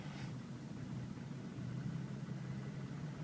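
A 1998 Jeep Cherokee Classic engine idles steadily on its own, a low, even rumble that holds constant throughout with no talking.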